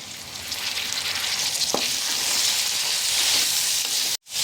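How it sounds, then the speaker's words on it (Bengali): Tomatoes tossed onto lightly fried onions sizzle steadily in a pan while chicken kofta is being made, a close, even hiss that runs throughout with no talking. "টমেটোটাকে আমি হালকা করে ভেজে নেব।"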